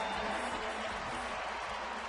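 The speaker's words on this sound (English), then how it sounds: "A nice warm applause from the fans." Warm, steady applause from baseball fans at a St. Louis at Arizona game, heard as a soft, distant wash of crowd noise with faint talk over it.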